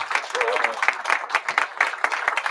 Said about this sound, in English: Give a big round of applause to Raul.